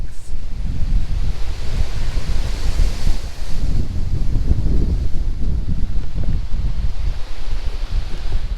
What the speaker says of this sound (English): Look at these winds, guys.